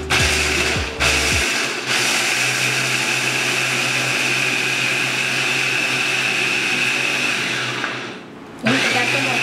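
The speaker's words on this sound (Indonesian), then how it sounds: "Ini kita giling ya, haruskan ya." A kitchen grinder or blender motor grinds dough ingredients with salt and sugar, a loud steady whirring drone that stops briefly near the start and again near the end.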